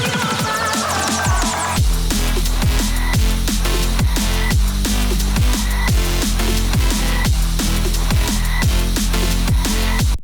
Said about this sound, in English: The bass we're making is essentially this bass right here.